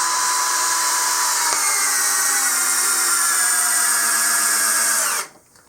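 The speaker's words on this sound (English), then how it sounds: "12-volt drill into pressure-treated wood." A 12-volt cordless drill whines steadily at high speed for about five seconds, driving into pressure-treated wood, its pitch sagging slightly under load, then cuts off abruptly.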